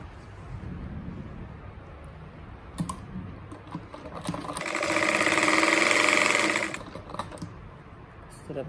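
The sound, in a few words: sewing machine stitching patchwork table runner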